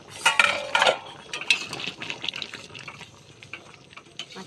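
A metal lid is lifted off a pot of bubbling chana masala, opening with a few sharp clinks and rattles, then a soft run of liquid bubbling and light stirring, close by with no talking.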